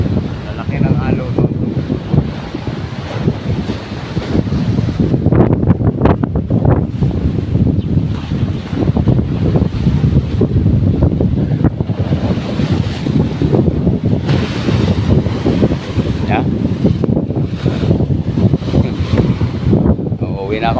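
Strong wind buffets the microphone while big ocean waves roll and crash nearby, a constant loud roar throughout.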